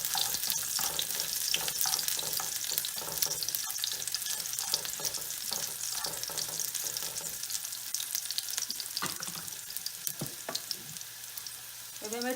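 Green chilli and garlic frying in oil in a pan for a vegetable cheese pasta, a steady loud sizzle throughout with repeated stirring scrapes and clacks, no voices.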